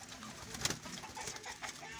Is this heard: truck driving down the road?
no